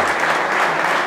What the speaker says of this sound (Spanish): Dar ese fuerte aplauso a nuestro Dios en esta mañana